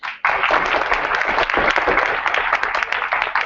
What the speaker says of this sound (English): I also want to give a round of applause to our media spokesman, Mr. Carmelo Centros Vivas,